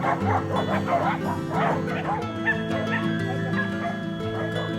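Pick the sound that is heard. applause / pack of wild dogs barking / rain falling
pack of wild dogs barking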